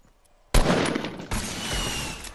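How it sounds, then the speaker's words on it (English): Fortnite gunfire bursts in after a quiet moment: a loud, sustained volley of rapid shots, a brief break, then a second long burst continuing to the end. "Just shoot one bullet."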